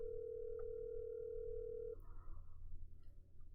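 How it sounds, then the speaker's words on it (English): A phone call placed on speakerphone gives a steady, continuous telephone tone for about two seconds, then cuts off into faint room noise and low background hum. "Just gonna call him. I'll put it on speaker."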